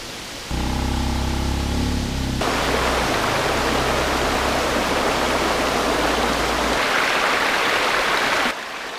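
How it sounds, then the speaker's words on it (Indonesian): A small waterfall in Penimbung village trickles over slick black rocks and drops into a small pool, giving a steady, broadband rushing wash; a low engine-like hum is audible at the start and then gives way to the water. "Alirannya kecil, mengalir lembut di atas bebatuan hitam yang licin, lalu jatuh ke kolam kecil di bawahnya."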